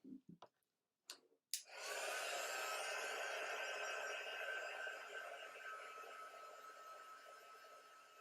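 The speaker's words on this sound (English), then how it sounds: "let's heat set this guy" A heat tool heat-setting white pigment ink on a craft project: a few sharp clicks, then a loud, steady, close blowing whir that runs for several seconds and slowly eases off.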